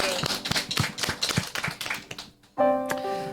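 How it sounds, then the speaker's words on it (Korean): Members of a Korean church congregation clap during Sunday worship, a run of close, uneven handclaps that thins out and stops, followed by a held sustained tone as music resumes. "우리 한 번 더 하나님께 영광의 박수 올리겠습니다."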